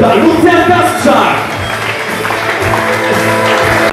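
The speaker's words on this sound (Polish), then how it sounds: "Wielkie brawa dla niego" An audience at a presentation of the AZS Koszalin basketball team claps and cheers for the team's physiotherapist, a loud, dense burst of applause with crowd noise and a voice over the top.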